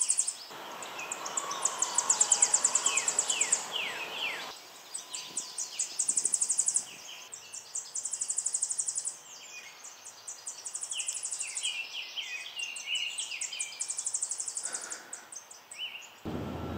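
Tennessee warbler singing loudly high in the canopy of a cemetery woodland, a run of bright, rapid, high-pitched chip phrases repeated in bursts, with other birdsong and insects around it.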